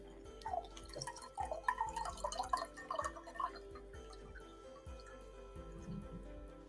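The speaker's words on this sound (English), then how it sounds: "I've got to fill my glass because I have lemon water." Water poured from a container into a glass of grapefruit juice and water, making bubbling, dripping trickles that rise and fade over several seconds, fairly faint and close, with quiet background hum.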